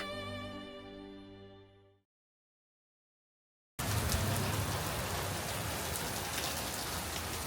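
Heavy rain falls outdoors at a lakeside hotel in Fukui, a dense, loud, steady hiss of drops that starts abruptly after a fading musical tone and a brief silence.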